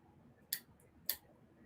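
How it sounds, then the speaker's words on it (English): Two crisp snips, about half a second apart, as scissors cut along the fabric sides of a vintage rag quilt being patched by hand; the snips are quiet and close, with a faint room hush between them. "I have special scissors for snipping them, but what I'm doing is snipping along the sides"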